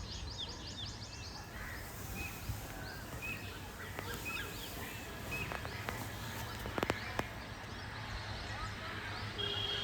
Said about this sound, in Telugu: పక్షులు కిలకిలా రావాలి వినండి.